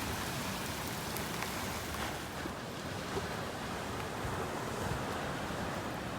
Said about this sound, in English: the rain has slowed